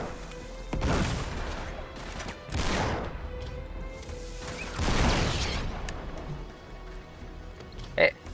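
Grenade launches and blasts in Uncharted 3, several heavy booming explosions with rumbling tails spaced a couple of seconds apart, amid game noise and background voices.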